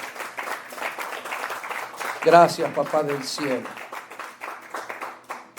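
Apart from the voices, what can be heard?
church congregation applause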